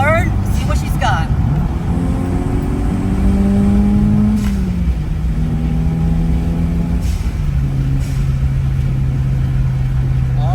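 A Toyota Celica GT-Four turbo engine revs during a downshift from fifth to third, rising and falling engine tones heard from inside the car with steady road and cabin noise.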